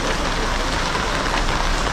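Rain falling outdoors on a walk toward a hospital, a dense steady hiss filling the whole moment with no gaps and no voices.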